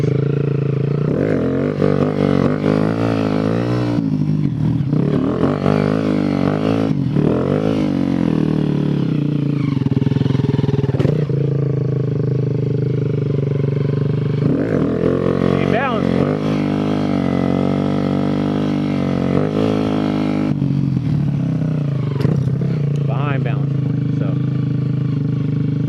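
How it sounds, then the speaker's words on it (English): A motorcycle rides wheelies, its engine revving up and dropping off again and again, loud and close, with repeated rising and falling throttle sweeps throughout. "Let's do some wheelies, show you some balance point, and practice."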